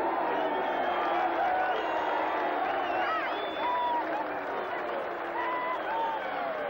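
A rugby ground crowd roars and cheers steadily as the New Zealand All Blacks, led by Wayne Shelford, run out against Randwick in 1988, a dense continuous wall of voices with a commentator talking over it.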